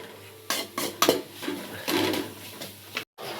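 Spices frying for dahi tadka while a spoon stirs and scrapes the pan, with irregular metallic clanks and knocks over a soft sizzle and a brief silent gap near the end.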